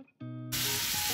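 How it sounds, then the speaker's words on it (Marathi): Mutton stock hits a hot pan with a sudden loud sizzling hiss that swells and stays steady and close after a brief faint tone. "थोडासा मटणाचा स्टॉक घालते"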